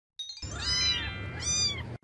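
A kitten gives a single drawn-out, wavering meow that rises twice, close and fairly clear, with a soft low rumble beneath it.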